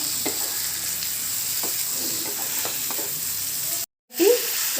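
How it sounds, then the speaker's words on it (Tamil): Chicken chukka with onions stir-fried in a pan, a steady close sizzle with scraping spatula strokes, a brief gap near the end before the frying resumes. "நம்ம நல்லா பரட்ட போகிறோம்"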